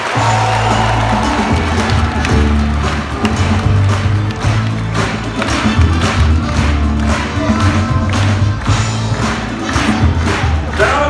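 A Kirov audience in a comedy venue welcomes comedian Viktor Komarov to the stage with loud, sustained, rhythmic clapping over thumping walk-on music, dense and continuous throughout.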